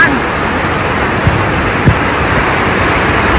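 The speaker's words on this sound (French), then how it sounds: "Nous sommes sous le pont au Churchill River. Ça s'appelle Otter Rapids et c'est très magnifique." Rushing white water of Otter Rapids on the Churchill River in northern Saskatchewan, heard from beneath a bridge as a steady, dense roar, with a couple of faint thumps.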